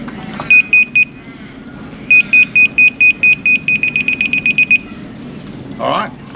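Self-leveling laser level beeping in rapid, evenly spaced electronic pulses: a short burst, a pause, then a longer run of beeps that speeds up, loud and close, with a brief voice near the end.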